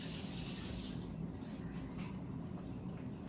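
A kitchen tap runs water in a steady, soft rush while asparagus is rinsed under it, continuous and fairly faint for the whole stretch.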